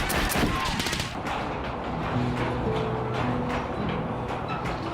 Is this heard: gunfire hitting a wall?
yes